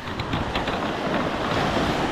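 Sea waves wash onto a beach in a constant broadband roar, close and fairly loud, mixed with wind buffeting the microphone and no clear speech.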